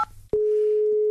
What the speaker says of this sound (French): Ok Brigitte, j'appelle Pierre Arditi.